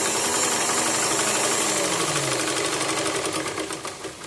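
A sewing machine stitching a fall onto a silk saree, a steady loud mechanical whirring hum that runs without a break and eases off slightly near the end, with no voices.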